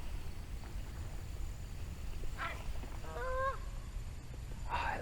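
Geese honk in a passing flock heard from stone steps by a beach, with a few distinct calls rising over steady surf and wind; the cries sound moderately distant and plaintive, with no talking.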